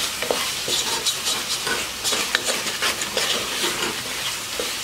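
Prawns coated in masala stirred vigorously in a pan over a high flame, crackling sizzle punctuated by quick scraping strokes of the spoon at an uneven rhythm, close and clear with no talking.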